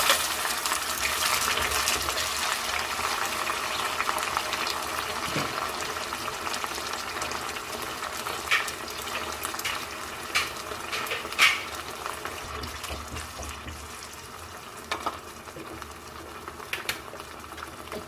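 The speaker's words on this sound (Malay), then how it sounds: "Apabila minyak sudah panas, kita masukkan bahan yang kita blender tadi." Blended spice paste for a nasi dagang curry hits hot oil in a pan and sizzles in a steady, dense hiss that holds for the whole stretch, close and fairly loud, with a few sharper spits and pops and no talking.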